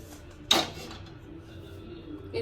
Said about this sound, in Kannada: ಒಗ್ಗರಣೆ ಹಾಕೋದಕ್ಕೆ ಒಂದು ಬಾಣಲೆನ ಇಟ್ಕೊಳ್ಳೋಣ.